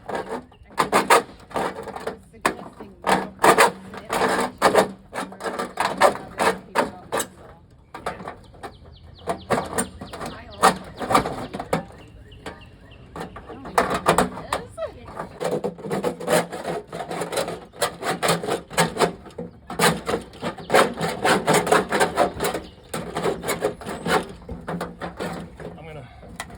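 A hacksaw cuts a groove during an outdoor rain barrel installation, its rough rasping strokes coming in uneven bursts, close and fairly loud, with people talking around it.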